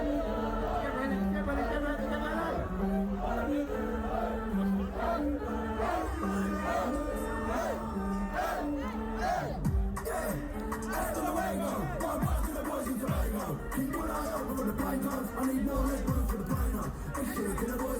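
A large festival crowd at a Boomtown performance keeps up a dense, steady roar under loud music, with voices faintly audible in the mix.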